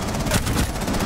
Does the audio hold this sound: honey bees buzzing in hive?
no